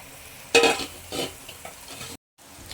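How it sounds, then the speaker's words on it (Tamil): Food sizzles and crackles in a pan while being stirred for mango pickle, with a couple of louder scraping stirs over a steady frying hiss. "இது வதங்கட்டும்."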